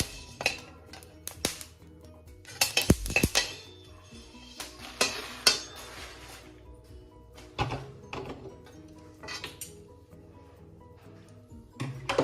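Whole black peppercorns, 75 grams, dry-roasting in a pan while being stirred, giving scattered dry rattles, scrapes and light clinks of the pan at close range with no talking.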